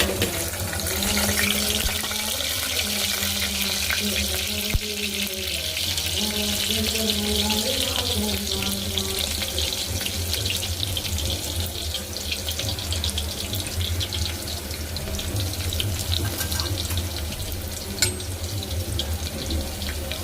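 A single chopped onion goes into hot oil and fries with a steady, close, hissing sizzle that stays even throughout, while a faint hum runs underneath.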